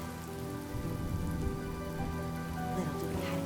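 Steady rain falls in the video game Honkai Star Rail, a continuous patter on surfaces with sustained musical tones underneath.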